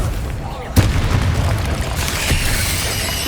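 A Confringo fire spell bursts in Hogwarts Legacy with a sharp booming blast followed by a rumbling, crackling tail, while a voice speaks over the action.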